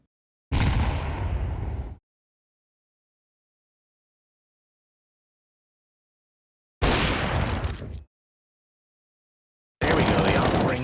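Counter-Strike AWP sniper rifle fire in a competitive match: three separate loud, sharp shot bursts spaced several seconds apart, each lasting about a second or more, with silence between them.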